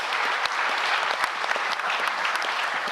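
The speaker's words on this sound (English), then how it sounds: "A very big round of applause for this fantastic panel." A conference audience applauds a panel on decentralization, a dense, steady burst of clapping from a crowd, close and even throughout.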